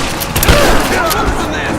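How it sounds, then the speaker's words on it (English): Gunfire in the action video game Rise of the Tomb Raider: a dense, loud fusillade of shots and booms fills the whole short moment, with shouted voices from the game mixed in. "Taking fire!"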